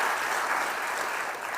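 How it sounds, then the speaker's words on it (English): An audience at a Knox County budget presentation breaks into a brief burst of dense, even applause that holds for a moment and then begins to thin. "Let's give them a round of applause, please."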